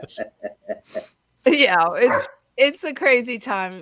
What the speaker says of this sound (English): I'm sorry about my dog. She's just not behaving.